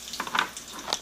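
A pinch of hing (asafoetida) dropped into hot oil in a pan sizzles briefly with a few quick crackling pops, close and fairly soft.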